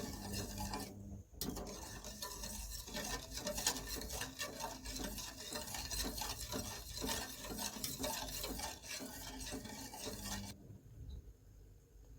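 Continuous scraping and swishing of a spoon stirring milk and sugar in a pot, close and steady with rhythmic strokes, ending in a brief quieter moment.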